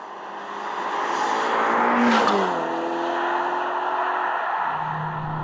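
A Ferrari Amalfi pulls away under launch control, its engine note rising in a steady loud roar that swells, peaks around the middle and shifts pitch as gears change, continuing strong to the end.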